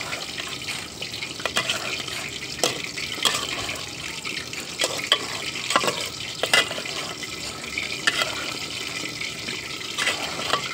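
Meat goes into spiced masala in a pot over a wood-fired stove and sizzles steadily, a continuous wet frying hiss with scattered sharper crackles and pops, close by and with no talking.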